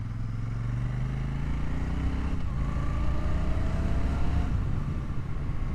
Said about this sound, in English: And a lovely sound from that exhaust.